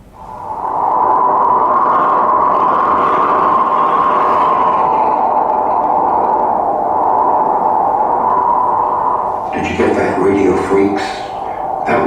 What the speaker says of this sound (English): That was the winds whistling in Antarctica.